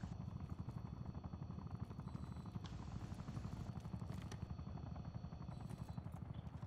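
A helicopter in Call of Duty: Black Ops 6 thumps in a fast, steady rotor chop throughout, fairly close, with a whining engine tone layered on top.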